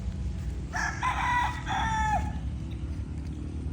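A young gamecock crows once at a gamefowl farm, clear and fairly close, over steady background rumble and outdoor noise.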